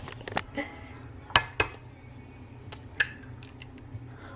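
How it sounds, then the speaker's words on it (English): Two eggs are cracked into a bowl at home while baking cookies, heard as a few sharp close taps and clicks against the bowl rim, spaced out over a quiet background. "It says I need to crack 2 eggs into the bowl and then mix it"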